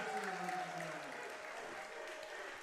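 Crowd at an IBL baseball game, Brantford Red Sox at London Majors, cheering after a home run: a steady, moderately distant wash of applause and cheering with a commentator's voice over it early on.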